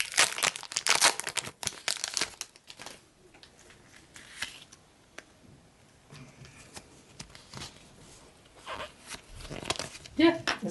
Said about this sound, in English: Open the pack. Gotta open it with care.